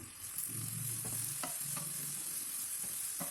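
Small onions sauté over a medium flame for mutton curry, giving a soft steady sizzle with a few sharp spatula taps and scrapes against the pan.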